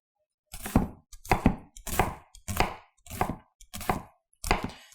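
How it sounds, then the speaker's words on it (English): A Misen chef's knife slicing through an onion in seven evenly paced strokes, each a crisp crunch ending in a knock on the board, close and alone. "So I'm gonna go ahead and give us a little cut here, one across here."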